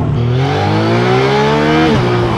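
A 2025 Triumph Trident 660 motorcycle with a new aftermarket exhaust accelerates hard, its engine note climbing steadily in pitch for about two seconds before a brief dip at a gear change; loud, close and continuous with no talk.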